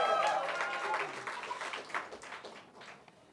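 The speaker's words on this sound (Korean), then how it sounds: "우리 박수로 모시겠습니다." Church congregation clapping and cheering to welcome the pastor at a Sunday afternoon service, a dense burst of applause that starts loud and gradually thins out, with excited voices mixed in.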